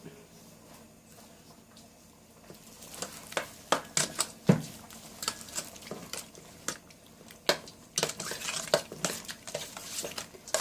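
Sauce and sugar being stirred in a bowl with a utensil for Korean spicy jjolmyeon with whelk, giving irregular scraping and clinking taps that grow busier and louder toward the end, close by, with no talking.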